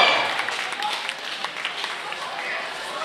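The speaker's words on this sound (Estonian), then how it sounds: "Aplaus võitjale!" An audience at the Noored Tähed 2012 youth talent show applauds the winner, a dense, even wash of clapping that starts strong, eases slightly and carries on under a voice.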